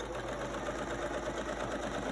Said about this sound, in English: Sew that with a 1/4 inch seam again.